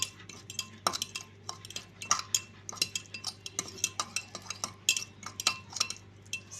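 A metal utensil stirs sardine chermoula marinade in a dish, with a quick, uneven run of close clinks and scrapes against the bowl and no talk.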